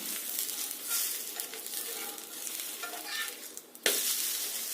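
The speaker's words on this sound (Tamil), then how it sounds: "கலக்கி தோசை ஊற்றி விடலாங்க." Chickpea and ragi dosa batter spread on a hot griddle, a soft crackling sizzle with faint scraping strokes, ending in a sharp clack, quiet and close.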